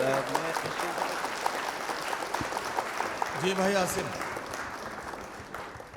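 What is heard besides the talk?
mushaira audience applause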